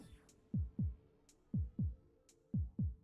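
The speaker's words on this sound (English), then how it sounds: "the music changed because we're at low health." Low-health heartbeat music from the Dicey Dungeons video game: paired thumping beats, lub-dub, repeating about once a second over a soft sustained hum, with a faint high tone near each pair.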